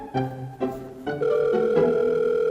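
A series of short electronic phone tones plays, then one long steady beep holds, clear and close, with no talking.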